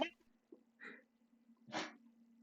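A couple of short, sharp nasal bursts like a small sneeze or snort, quiet and close, separated by brief pauses.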